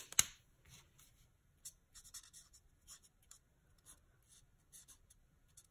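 A marker colors in stamped leaves in Granny Apple Green, making soft, quick scratchy strokes in short bursts after one sharp tap at the start, close and quiet.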